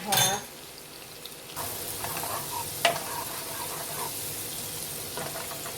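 Minced garlic fries in a pan for creamed spinach: a brief clatter, then a steady close sizzle with a sharp utensil knock partway through and occasional light stirring.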